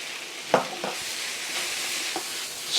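Pork and noodles stir-fried in a wok give a steady soft sizzle, broken by a few scraping stirs and clinks of the utensil against the pan, close and moderately quiet, with no talking.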